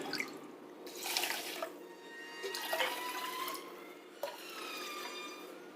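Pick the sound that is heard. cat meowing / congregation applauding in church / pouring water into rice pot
pouring water into rice pot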